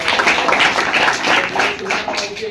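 Audience at a school event breaking into a short burst of dense, loud applause, many hands clapping together close by for a couple of seconds.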